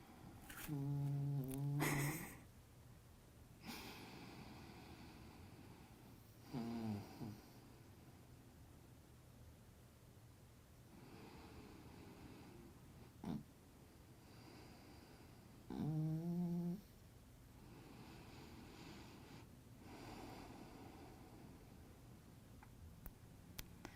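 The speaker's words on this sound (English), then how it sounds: "breaths are coming in the form of little gronking snores." A small dog snores through a nap during a gentle yoga session, giving a few faint, short gronking snores spread apart over a quiet, hissy room.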